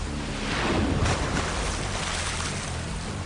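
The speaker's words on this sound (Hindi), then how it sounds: "40 फीट ऊंची डेंजरस वाटरफॉल।" A 40-foot jungle waterfall in Borneo gives a dense, steady roar of rushing water, loud and close throughout, with a wind-like hiss over it.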